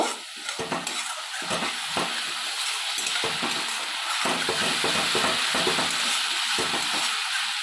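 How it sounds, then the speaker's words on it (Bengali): A spice paste with chili powder fries in a pan for a Bengali prawn and spring onion stew. A loud, continuous sizzle sounds close up, and the repeated scrape and knock of a spatula stirring breaks through it in short bursts. "মশলাটা ভালো করে আমি ভেজে নেব।"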